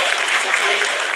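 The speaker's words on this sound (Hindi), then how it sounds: "आप तालियों के गड़गड़ाहट से सुन सकते हैं" Brief burst of dense crowd applause during the Chandrayaan 3 landing broadcast in the vertical descent phase, steady and fairly loud for just over a second.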